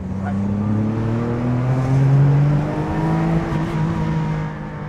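A Porsche 959 engine revs in steady, rising and falling sustained tones, loud and close, with a strong low harmonic drone throughout.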